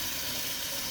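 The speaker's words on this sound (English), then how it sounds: "sorry about all the sizzling and noise that it makes" Tomato sauce sizzles steadily in a cooking pan, a dense, continuous hiss that stays loud and even throughout with no talking.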